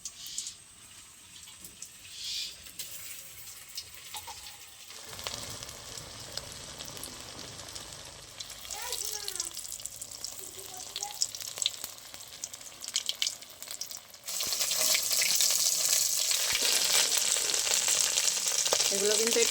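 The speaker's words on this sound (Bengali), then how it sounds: "একই রকম ভাবে বাকিগুলো ভেজে নেব।" Soft chhana koftas fry in hot oil, a continuous crackling sizzle with occasional stirring clinks that swells into a loud, steady hiss toward the end.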